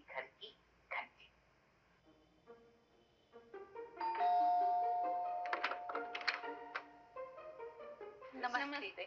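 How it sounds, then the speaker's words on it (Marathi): A house doorbell rings once with a sustained chime in the middle, after short bursts of speech at the start, and talk follows it. "और अब चलिए बजाते हैं किसी घर की घंटी।"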